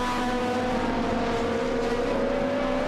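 Spyker C8 Spider GT2 race car engine at the Dubai FIA GT round, a loud, constant high-revving drone with a steady whining tone held throughout, close by and without talk.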